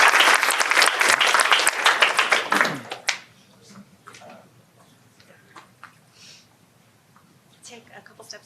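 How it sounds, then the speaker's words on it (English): An audience at a school board meeting applauds the Redwood boys golf team, loud dense clapping for about three seconds, then it stops abruptly and leaves quiet room sound with scattered faint noises and soft voices. "Again, a round of applause to Redwood Boys Golf Team."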